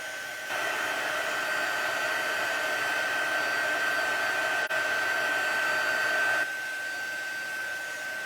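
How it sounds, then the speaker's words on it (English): A heat tool blows with a steady, close whooshing hum for about six seconds while melting black embossing powder on a stamped card, then switches off, leaving quiet room tone. "Grab our heat tool."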